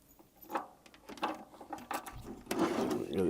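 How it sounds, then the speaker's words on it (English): A thin nut and washer on a socket wrench being started onto a Fast Fit drum trigger mount on a Yamaha tom, giving close, irregular metallic clicks and scraping handling noise with no talking. "I'll put the washer on the 1/8 inch socket, and then the nut."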